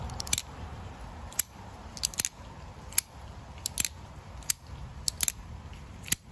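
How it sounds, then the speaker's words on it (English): Demko AD20.5 folding knife flicked open and snapped shut repeatedly, crisp sharp clicks arriving in irregular bursts of one or two over a quiet background, close and clear. "the knife opens and closes itself"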